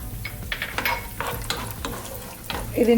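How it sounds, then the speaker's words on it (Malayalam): Chopped cashew nuts frying in a pan for semiya payasam, with a steady close sizzle under repeated light scrapes and stirs of a spoon against the pan. "കുറച്ച് കാഷ്നട്ട് ചെറുതാക്കി മുറിച്ച് ചേർക്കാം ഇതൊന്ന് ഫ്രൈ ആയിട്ട് വരട്ടെ"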